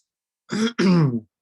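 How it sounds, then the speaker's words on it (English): A single person clears their throat twice in quick succession, close and distinct, with silence before and after. "Sorry for clearing my throat all the time."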